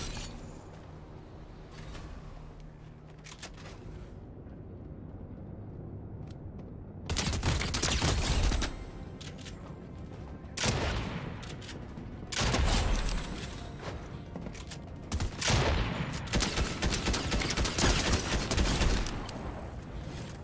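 Shotgun fire in a video game, with repeated loud blasts and bursts of gunfire arriving in clusters over steady background game noise, some shots rapid and overlapping.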